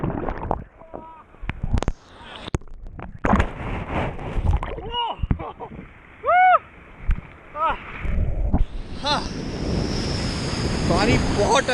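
Rough sea surf at Manora Beach in Karachi makes a constant roar with heavy wind buffeting the microphone. Shouted voices and whoops cut in over it, and the wash swells louder toward the end.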